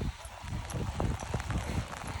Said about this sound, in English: Look at horse.